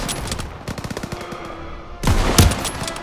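PaK 38 anti-tank gun and small-arms fire in the Call of Duty WWII game, rapid bursts of shots and a heavier booming blast near the end, loud and close, no talking.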